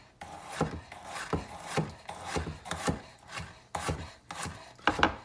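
A knife slices through fresh organic turmeric root with the peel left on, making a steady series of crisp cutting strokes, close and fairly quiet, with no voices.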